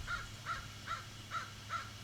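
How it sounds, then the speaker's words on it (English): Crows near a nest caw five times in an even rhythm, distant and faint over a low background hum. "Can you hear the crows? We have a crow's nest starting over here."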